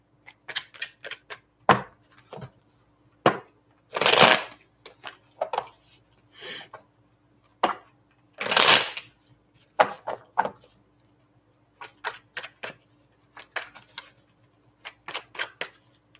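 Tarot cards shuffled by hand during a reading, heard as a few rustling riffle bursts between many small taps and clicks of handled cards, fairly close and with no talk.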